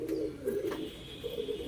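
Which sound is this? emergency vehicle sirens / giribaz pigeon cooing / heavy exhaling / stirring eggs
giribaz pigeon cooing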